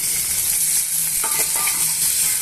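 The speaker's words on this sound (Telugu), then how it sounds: "ఇప్పుడు మనం కట్ చేసి పెట్టుకున్న ఒక నాలుగు టమాటా ముక్కల్ని వేసేసుకోవాలండి" Chopped tomato pieces go into a pan of sizzling onions and green chillies, giving a loud, steady frying hiss with a brief clatter partway through.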